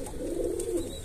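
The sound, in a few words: escaped bird inside the house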